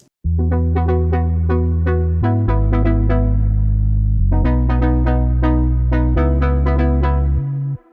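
Bright, buzzy saw-wave synth chords over a deep sustained bass, with the chords changing in a steady rhythmic pattern and no voices, from a track.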